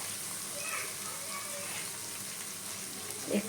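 Water is poured into a spice mixture frying in a pan for a Bengali taro curry, giving a soft steady sizzle and hiss that ends in a brief louder splash, with some faint voice in the background.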